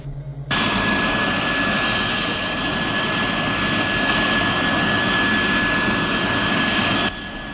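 A loud jet roar from an F-116 hypersonic fighter engine bursts on abruptly and holds steady with a high whine over a broad rushing blast, then cuts off sharply.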